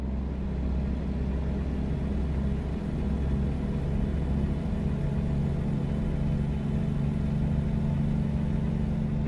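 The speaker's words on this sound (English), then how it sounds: "I turned the volume up a little bit on the engine because I really love the sound of this engine" Steady low rumble of a truck engine cruising on a rural route in American Truck Simulator, a constant droning hum at even level throughout with no voices.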